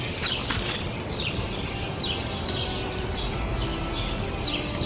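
A sparrow perched nearby gives a series of short, bright chirps, repeating irregularly over a steady, loud wash of background noise.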